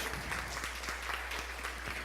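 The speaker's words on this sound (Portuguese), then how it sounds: "Você pode aplaudir a Jesus?" A church congregation applauds during a sermon, with a continuous, moderately distant patter of many hands over a steady low hum, without voices.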